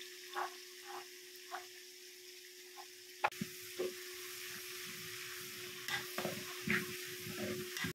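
Ingredients sauté in a pan for a fish curry, a soft hiss of frying broken by a few scattered stirring clinks and scrapes, faint and close.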